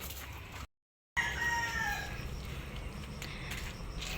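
A rooster crows at a family home in the countryside. The call sounds at a moderate distance against a steady outdoor background, and there is a short gap of silence just before it.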